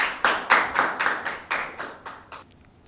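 A small group claps for a team at a school Bible quiz, about nine sharp, separate claps in an even rhythm that fade out after a few seconds, close and with no voices.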